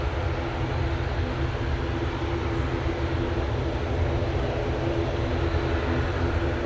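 Airliner arriving at Manchester Airport after a seven-and-a-half-hour flight, a steady broad engine roar that stays loud and even throughout with no voices.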